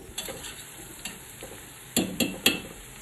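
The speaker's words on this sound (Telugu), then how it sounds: "ఇప్పుడు అనాస పువ్వు వేసుకొని ఫ్రై చేసేసుకోవాలి." Star anise and whole spices frying in oil in a pan for chicken biryani, a soft background sizzle broken by several sharp scraping stirs of a spoon, the loudest three near the end, no talk.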